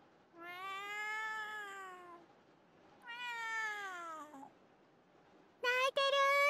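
A cat meows two long, drawn-out times, fairly close and clear in a quiet room, then gives a short, sharper high cry at the end.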